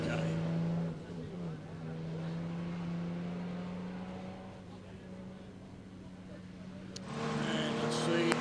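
A Jaguar E-Type race car engine drones steadily at a historic racing event, its note holding then fading slightly before another engine swells near the end, with commentary voices over it.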